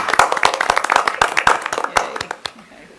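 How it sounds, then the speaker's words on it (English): A school board of education meeting audience claps together. The brisk, dense clapping is close and loud, thinning over about three seconds and fading out, with a few voices underneath. "Can we applaud again?"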